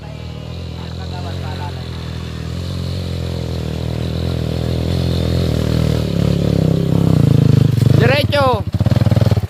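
Enduro motorcycle on a mountain trail at Mt. Paldingan, its engine droning steadily and loudly, then revving hard near the end, with riders shouting over it.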